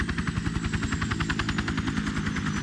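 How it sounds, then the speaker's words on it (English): A helicopter arrives in the Resident Evil Remake video game, its rotor thumping in a fast, steady chop over a loud engine drone that fills the scene throughout. "Now here comes the helicopter to pick us up."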